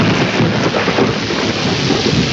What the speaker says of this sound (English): It is raining behind and ahead,